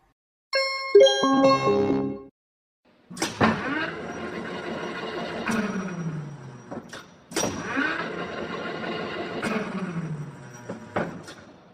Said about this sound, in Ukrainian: экскаватор.